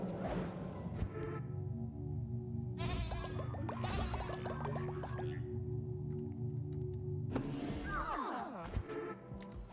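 A goat character's scream in a video game, drawn-out bleating wails that rise and waver, repeating several times over a steady droning backdrop.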